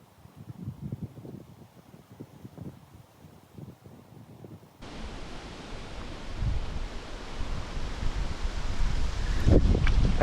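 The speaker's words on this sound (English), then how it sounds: "Hopefully the wind's not too bad." Steady wind gusts roar across the microphone beside a crystal-clear spring while fishing for bluegill and redbreast sunfish at Alexander Springs, Florida, building louder and rougher partway through and continuing with no speech.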